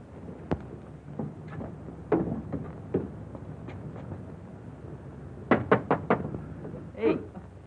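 Scattered knocks and bumps at first, then a quick run of four sharp raps on a wooden door, near and fairly loud, followed by another thud, in an old 1942 film scene with room noise.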